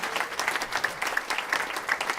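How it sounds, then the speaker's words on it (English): Quiet applause from an audience after a distinguished speaker series talk, a soft steady patter of clapping with a few distinct claps standing out, brief and somewhat distant. "let's give a round of applause."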